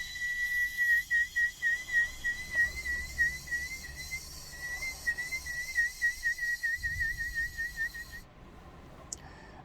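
Palate whistling held on a steady high tone with a wavering vibrato that pulses up and down in pitch, close and clear for about eight seconds before stopping abruptly.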